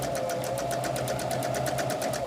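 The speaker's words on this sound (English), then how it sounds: "I'm going to take them to my machine, and I am going to stitch 1/4 inch seam" A sewing machine stitches quilt pieces together with a 1/4 inch seam, a fast, even, rapid mechanical whir of needle strokes running continuously up close.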